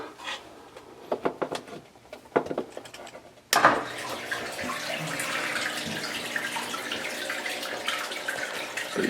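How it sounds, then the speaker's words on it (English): Aquarium water pump switching on after a few scattered knocks and handling sounds, then a sudden, steady rush of water spilling into the pre-filter chamber that continues loudly and evenly to the end. "with the water pump on, you can see the operation. Water spilling into the pre-filter chamber"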